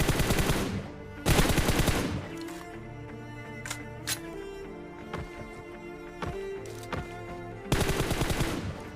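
Automatic gunfire in PUBG Mobile rings out in three rapid bursts, at the start, just after, and again near the end, with a few sharp single shots and softer game sounds in between.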